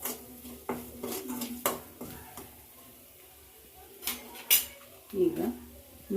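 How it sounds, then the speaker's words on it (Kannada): Maggi masala being stirred and fried in a pan for simple instant noodles, heard as a few near metal clinks and scrapes of a utensil against the pan, spaced apart over quiet background. "ನೋಡಿ ಈ ರೀತಿ ಫ್ರೈ ಮಾಡ್ಕೋಬೇಕು"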